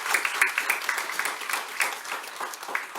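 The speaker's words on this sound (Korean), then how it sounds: "축복의 박수." A church congregation claps together during a Sunday worship service, a dense, lively patter of many hands that holds steady, moderately loud and close, for a few seconds.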